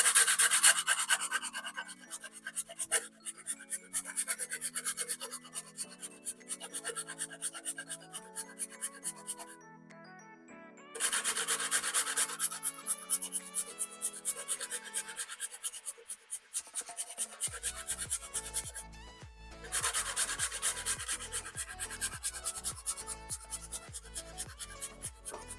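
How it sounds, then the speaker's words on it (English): Fresh ginger and garlic being grated on a very fine grater, a close, quiet, rhythmic rasping of quick strokes that runs in several bursts separated by short pauses. "Using a very fine grater, we're gonna grate the ginger,"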